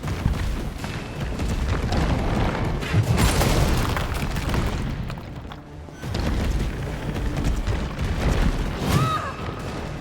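Heavy booming shotgun blasts in Resident Evil 2, loud and close, mixed with dense game noise and rumbling effects, with one big burst near the start and another around the middle.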